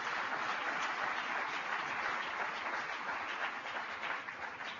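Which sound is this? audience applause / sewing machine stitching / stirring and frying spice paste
audience applause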